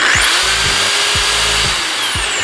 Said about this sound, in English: On a drill, I actually go full speed.